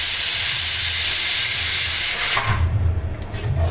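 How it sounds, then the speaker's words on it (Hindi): Hot milk poured into roasted rice for kheer: a loud, steady steaming hiss that cuts off after a couple of seconds, leaving low bubbling as the mixture boils. "अब इसमें हम डाल देंगे अपना गर्म दूध। तो आप देख सकते हैं दूध डालते ही बिल्कुल उबलने लगी हमारी खीर"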